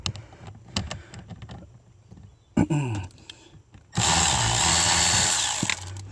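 Handheld power tool backing out two 8mm screws from an HVAC mode door actuator on a 2010 Ford F-150 Lariat, with short buzzing bursts followed by a long loud whine at the end, close up amid clicks and handling noise.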